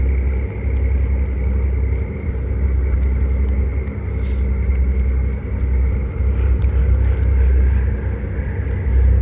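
A heavy, continuous ferry engine rumble drones steadily throughout, low and powerful, as the boat turns nearby.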